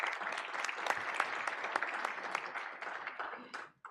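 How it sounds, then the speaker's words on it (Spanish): Audience at a panel discussion on human rights bursts into sustained applause, dense clapping that holds steady and then tapers off at the end, heard from within the room. "Un aplauso para Marina, por favor"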